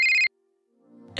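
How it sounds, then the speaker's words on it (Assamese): A phone ringtone plays a short, loud electronic tone burst, cut off abruptly, followed by a brief pause before a rising rustle. "ফোন এটা আহিছে।"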